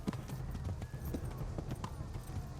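A horse gallops fast in Kingdom Come: Deliverance, its quick, close hoofbeats drumming steadily under game sound for a few seconds.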